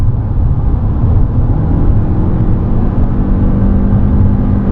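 A 2025 Lexus NX350h hybrid SUV accelerating, with a steady, loud broadband road and engine roar heard from inside the cabin and no talking.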